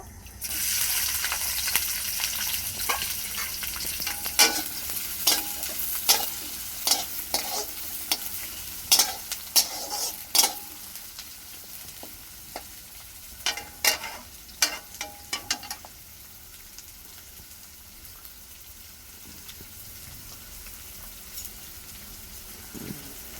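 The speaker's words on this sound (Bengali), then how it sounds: "তেল গরম হয়ে গেছে, শাহি জিরা দিয়ে দেব, পেঁয়াজ কুচি দিয়ে দেব" Shahi cumin and chopped onion sizzle in hot oil, a steady fry hiss broken by sharp stirring scrapes and clatters that thin out toward the end, close and fairly loud with no voices.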